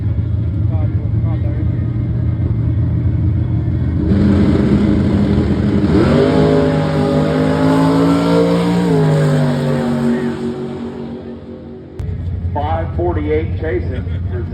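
Drag racing car and truck launching side by side down a dragstrip, engines revving hard and roaring loudly as they pull away, then fading before another engine idles up close; an announcer talks over it.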